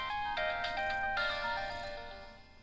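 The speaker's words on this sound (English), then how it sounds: "That's a nice shutdown sound." A Sprint-branded phone plays its shutdown tone, a bright, clear melodic chime of several stepped notes that rings out and fades away.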